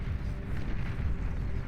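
Gauss cannon fire and explosions rumble in the strategy game Beyond All Reason, a dense, continuous low boom with no distinct individual shots, steady and fairly loud.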